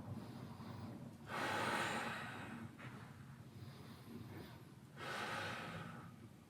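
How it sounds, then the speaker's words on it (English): Deep breathing during a cross-fit workout stretch: two long, loud breaths a few seconds apart, each a broad airy rush, with quieter breathing between them and no talking. "take in 6 deep breaths"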